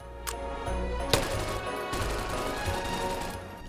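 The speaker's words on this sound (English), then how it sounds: "The Viper is an open bolt SMG that was meant to be shouldered and fired with one hand." Viper Mark 1 open-bolt submachine gun firing in H3VR, a few sharp separate shots followed by a sustained rattling burst at moderate level, with no one talking.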